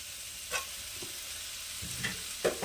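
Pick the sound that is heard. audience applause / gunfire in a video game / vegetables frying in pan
vegetables frying in pan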